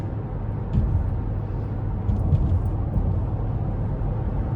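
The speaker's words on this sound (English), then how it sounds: "driving this fucking Chrysler 300 in the snow again, bro" A Chrysler 300C rolls along a snowy highway at night, its steady low engine and road rumble filling the cabin continuously without a break.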